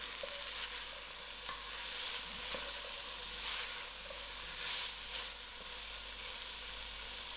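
Potatoes being stirred in a pot for creamy salmon soup make a soft, steady sizzle with faint scraping mixing sounds, quiet and close, and no voices.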